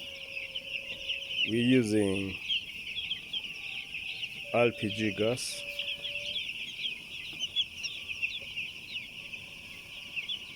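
Chickens cluck and call inside a poultry brooder house warmed by LPG gas heaters on a farm in Kenya. There are two short bursts of calling over a steady hiss and hum, and someone talks in between.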